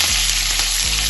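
Mustard seeds, shallots and curry leaves fry in hot oil for paal kappa, giving a steady, loud, close sizzle with a low hum underneath and no voices.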